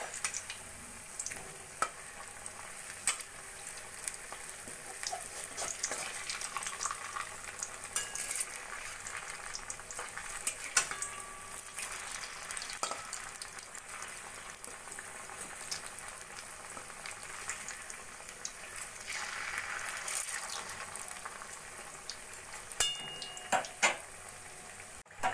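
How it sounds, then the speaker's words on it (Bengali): Potato pakoras deep-frying in hot oil, a continuous crackling sizzle with scattered pops and occasional louder bursts, close up and with no voices. "একইভাবে সব আলুর পকোড়াগুলোই আমি ভেজে নেব।"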